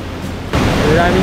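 Urami Falls at Nikko, Japan, roars as a loud, steady broadband rush of falling water that swells abruptly halfway through, with brief voices at the start.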